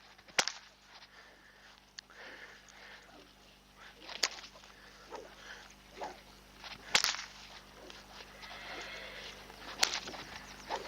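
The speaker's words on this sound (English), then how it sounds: "the surface really gets tangled up in the whip Lollipop, and so it's really hard." A whip swishes and cracks during horse training in an arena, several sharp snaps spaced a few seconds apart, moderately close, over a steady background hum with faint activity in between.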